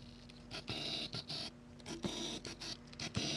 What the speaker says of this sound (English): that's the sound of the autofocus motor inside of this